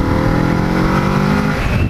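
A Kawasaki Z650 motorcycle revs hard with a loud, steady airbox roar, up close and alone, its pitch holding then rising slightly near the end.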